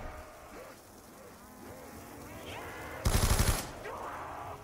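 Gunfire from a weapon in Black Ops 2 Zombies on the Bus Depot map, a short loud burst of rapid shots lasting under a second that stands out from low, steady game ambience.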